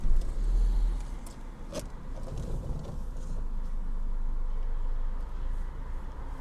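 A Renault Megane 1.6 automatic is started with the key: a short sharp starter sound, then a quiet, steady low engine idle continues without voices.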